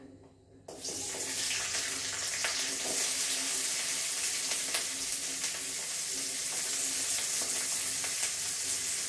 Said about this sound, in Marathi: त्याच्यामध्ये पहिल्यांदा कांदा परतून घेणार आहे